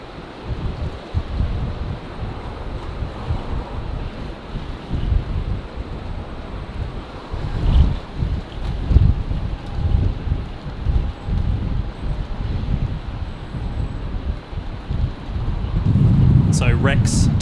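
Strong gusty wind buffets the microphone at an airport plane-spotting spot, a rough, uneven rumble surging in bursts from close by, with people talking under the noise.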